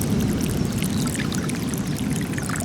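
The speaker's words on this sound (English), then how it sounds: "This is a little hole, and the water is draining down the hole." Floodwater drains down a small hole in the flooded Malama Flats in Hawaii, a steady gurgling pour and rushing trickle that holds loud and close the whole time, with no voices.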